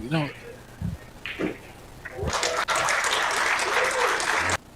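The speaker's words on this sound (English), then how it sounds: "some applause coming from table number 1" Applause breaks out from a neighbouring table at a professional pool tournament in Las Vegas, a steady burst of clapping lasting a couple of seconds before stopping abruptly, preceded by commentators talking.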